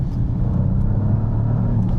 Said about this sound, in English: I just breathed on the throttle there and we were already doing 60 miles per hour